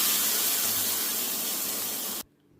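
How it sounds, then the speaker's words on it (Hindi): Mustard seeds, curry leaves and asafoetida hit hot refined oil for a chutney tempering, giving a loud, steady broadband sizzle that cuts off abruptly near the end, leaving near silence. "तो यहाँ पे मैंने रिफाइंड ऑयल लिया है, सरसों के दाने डाले हैं, करी पत्ता और डाल रही हूँ हींग, और लगाऊंगी चटनी में छौंका"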